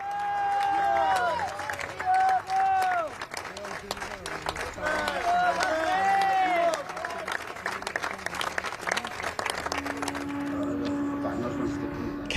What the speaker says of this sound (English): The most solemn and unexpected of homecomings, nevertheless greeted with applause